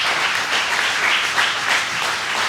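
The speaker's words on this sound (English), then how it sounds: "Round of applause for them." Steady applause from an audience at a meet-and-mingle event, a dense wash of many hands clapping at even loudness throughout, with no speech.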